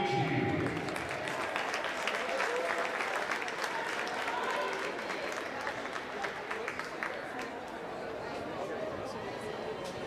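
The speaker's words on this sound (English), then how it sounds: "Big round of applause for Michael Mccue." Sustained applause from a crowd at a high school varsity boys basketball game, steady and dense throughout, with faint cheering mixed into the clapping.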